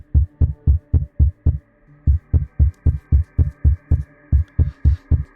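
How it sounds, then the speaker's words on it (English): Heartbeat sound effect, a loud, deep, steady thumping pulse in close pairs that pauses briefly then resumes at a quicker, even pace, with a low hum underneath and no talk. "you hear the heartbeat quicken"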